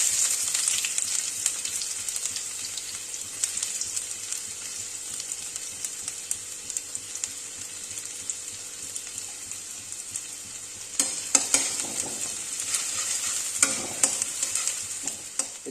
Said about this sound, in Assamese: এতিয়া আমি প্ৰথমতে পিঁয়াজখিনি ভাজি ল'ম,